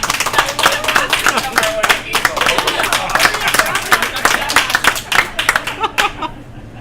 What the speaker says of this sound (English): I think whenever we have an audience here, we need to clap